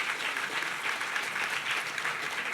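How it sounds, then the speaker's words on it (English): An audience at a fireside chat event gives a speaker steady, even applause that fills the whole stretch at moderate loudness, with no voices over it. "Let's have a round of applause for Kate"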